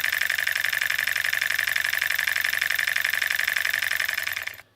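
A PM Research #3 model steam engine runs with a steady, fast rhythmic chuffing and light mechanical rattle, close and fairly loud, then stops abruptly near the end.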